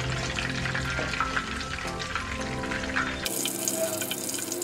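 Garlic cloves fry with curry leaves in hot oil while making spicy Kerala mixture, a dense continuous sizzle and crackle up close that grows brighter and hissier partway through.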